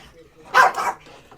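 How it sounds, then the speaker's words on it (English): A dog barks once or twice, a short, fairly loud burst close by that stands out over quiet background noise in a home. "The dog is barking."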